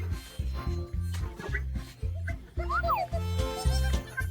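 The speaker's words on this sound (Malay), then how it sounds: "Saya hampir terlupa tentang anjing itu." A dog in a video game yips and whimpers in short repeated cries over a rhythmic, pulsing game music loop, fairly faint.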